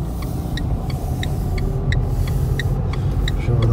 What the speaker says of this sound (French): c'est parti, j'accélère et je démarre en